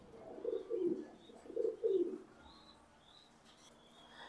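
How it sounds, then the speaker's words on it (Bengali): A Belgian-bred racing pigeon, a direct import with Koopman bloodlines, coos in two short bursts of low, throaty calls close by, followed by quiet background with faint chirps. "এটা আমার একটা ডাইরেক্ট বিদেশি কবুতর, এটা বেলজিয়ামের একটা ফেন্সিয়ারের"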